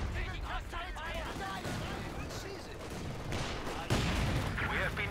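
Hostile gunfire in a World War II strategy video game, a dense crackle of rifle and machine-gun shots mixed with battle clamor and distant explosions, with game voices heard over the fighting.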